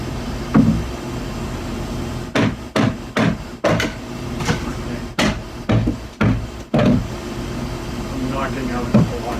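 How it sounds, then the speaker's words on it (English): Roughly eight sharp, evenly spaced knocks as a block is hammered out of a roof during demolition, loud and close over a steady background hum with occasional murmuring. "Knocking out a block."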